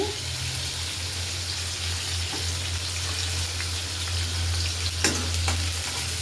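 Chopped onion hits hot oil in a wok, giving a loud, continuous close-up sizzle and crackle that holds steady throughout, with no voices.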